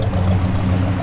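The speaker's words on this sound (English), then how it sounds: "Give it a little rev. Good sound." A 1966 Pontiac LeMans convertible engine runs with a steady, low, throaty rumble, held close and loud through a short one-second stretch with no one talking.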